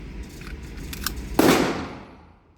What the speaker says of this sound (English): Round is racked.